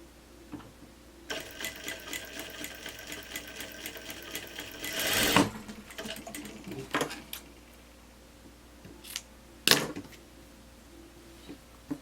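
Sewing machine stitching a blouse with a bell-cut sleeve, bursts of rapid mechanical whirring and clatter, with a few sharp clicks and knocks between runs, close and fairly faint.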